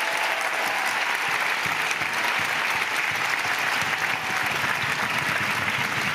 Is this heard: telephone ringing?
no